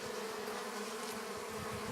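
Bees buzz steadily and close, a dense continuous hum without pauses and no voices.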